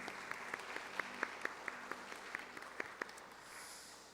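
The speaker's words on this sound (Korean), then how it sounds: "다시 한번 큰 박수 한번 줍시다." Church congregation at a Korean Sunday worship service clapping together, soft distinct claps in a fairly even rhythm that thin out and fade near the end.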